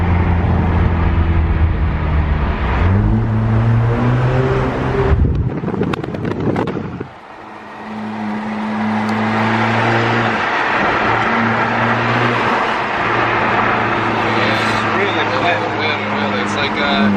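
A 2018 Alfa Romeo 4C driven through a tunnel, its engine droning loud and close with rising revs, a brief roaring burst midway, then a steady rumble, with wind buffeting and people talking over it.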